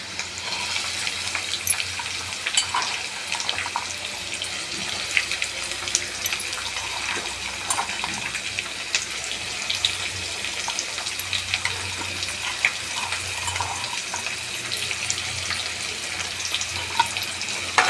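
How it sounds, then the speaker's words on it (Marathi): Onions and chillies fry in a pan, giving a steady, moderate sizzle with soft crackles and occasional stirring noises for the whole stretch, and no voices. "आता कांदा चांगलं परतवायचं,"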